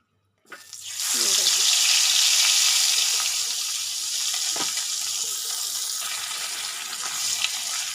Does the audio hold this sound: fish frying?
yes